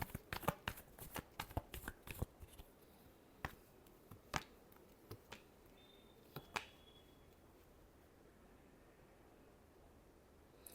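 Tarot cards being shuffled for a reading, a quick run of crisp riffling clicks up close, then sparse single taps and flicks over a quiet hiss, with no talk.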